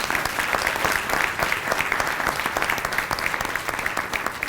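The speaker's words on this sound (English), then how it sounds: "And for that alone, he deserves a round of applause." An audience at a town board meeting claps in a full, dense burst of applause, steady and close throughout, with no talking over it.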